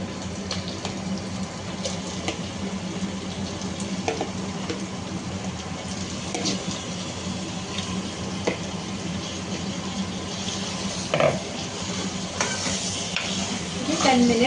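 Cleaned chicken pieces frying in hot oil for a chicken curry, with a continuous low sizzle broken by scattered clinks and stirring scrapes, plus occasional faint talk in the background.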